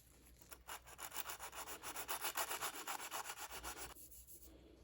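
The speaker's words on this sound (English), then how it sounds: "Some 80 grit aluminum oxide emery cloth that should cut both the wood and the stainless steel." Strokes of 80 grit aluminum oxide emery cloth sanding wooden knife scales, a steady run of rhythmic back-and-forth rasps, close and fairly loud, with no talking.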